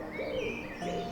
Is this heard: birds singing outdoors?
yes